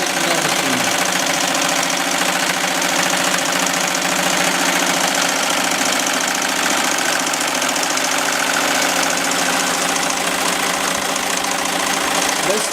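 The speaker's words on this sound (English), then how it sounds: "stitching right on the leather. It's actually gonna put a design in it and everything." An embroidery machine stitches a design into leather with a fast, steady mechanical chatter and hum, loud and close, running continuously throughout.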